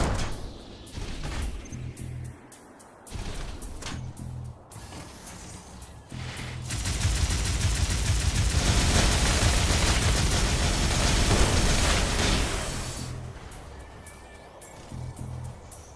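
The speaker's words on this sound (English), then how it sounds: "let's let this guy shoot me" Video game gunfire as an enemy shoots at the player, with scattered loud shots and mechanical clatter building into a long, dense burst of rapid fire before tapering back to sporadic shots.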